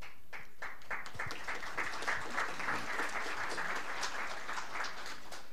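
Audience applause at a talk on Olympic values in Brazil, steady dense clapping from a crowd that holds for several seconds at even strength.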